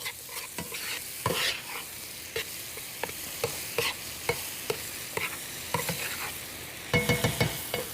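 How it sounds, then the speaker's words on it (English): A spoon scrapes and taps through orzo and a couple of tablespoons of butter in a pan, with repeated clinks over a soft sizzle and no voices. "I'm going to stir that all together just to separate the orzo"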